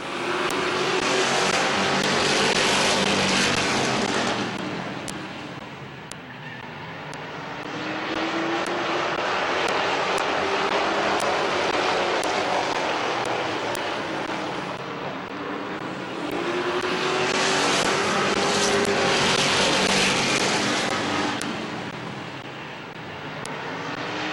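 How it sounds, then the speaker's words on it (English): Race cars on the Midvale Speedway oval during a stock car feature roar past in loud swelling waves, engine noise rising and fading as the pack circles, with no talk. "Smart and Wood on the move in 3rd and 4th."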